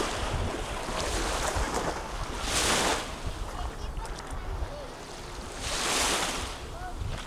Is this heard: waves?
yes